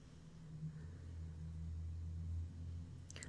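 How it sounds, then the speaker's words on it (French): A car engine running outside, a muffled low rumble that swells slightly and then fades, heard from indoors, followed by a brief click at the end. "Le bruit de moteur, c'était une voiture dehors à ce moment-là."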